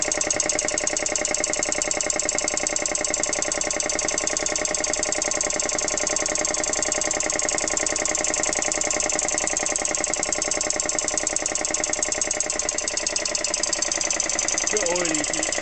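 A vintage Dunlop air compressor motor runs continuously with a steady, rapid mechanical chug and hum, loud and close throughout, with a voice talking faintly over it.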